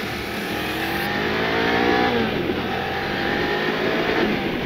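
A Voge 500 DS motorcycle engine accelerates hard, its loud rising whine climbing steadily through the revs, close and alone without talk.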